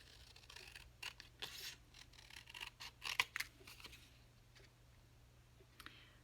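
Scissors trimming a paper pocket for a floral junk journal, a run of quiet close snips and crisp cuts in short bursts, then a few scattered clicks as it tails off.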